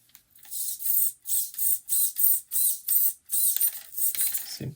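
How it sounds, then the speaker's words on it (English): A HobbyWing Mini24 brushless motor in a RedCat Ascent 18 crawler spins up in repeated short high-pitched whining bursts, about eight evenly spaced pulses at close range, with no voices. "The motor is moving."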